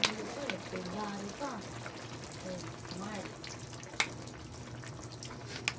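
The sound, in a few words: pouring vinegar into adobo of chicken liver and gizzard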